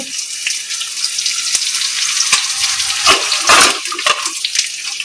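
Hot oil sizzles and crackles loudly and continuously as star anise, cinnamon, cloves and onion fry, with a few sharp pops and a brief surge of spattering midway.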